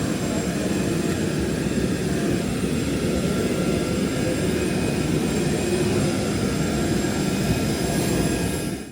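Airplane engines drone steadily while passengers board a roughly 45-minute flight to Cayo Largo del Sur, Cuba, a loud, constant low roar with a faint high whine on top.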